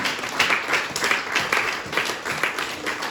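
A congregation at a Sunday worship service in Orléans breaks into steady applause, many hands clapping together in a full, continuous patter with rhythmic swells, loud and close throughout.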